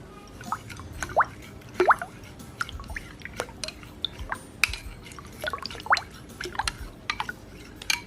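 Jiggly water slime made without borax is squished and mixed by hand. It gives close, wet plops, drips and sticky squelches in an irregular rhythm, with no talk.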